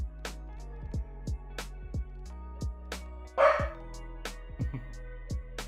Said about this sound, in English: my dog can be heard barking in the background